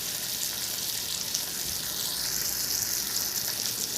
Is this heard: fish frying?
yes